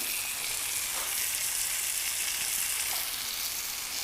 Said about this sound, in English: Got the fillets on the grill, bacon wrapped fillets, looking good.